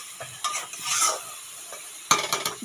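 Spice masala with dried chilli powder stir-fried in a pan, with scraping spatula strokes in irregular bursts over a soft sizzle, and a louder flurry of quick scrapes near the end.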